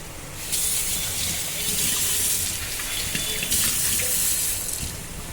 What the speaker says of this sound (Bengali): দেখো এবার জল ঢেলে দেবো